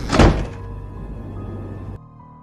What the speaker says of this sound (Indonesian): tapi pintu tertutup dengan sendirinya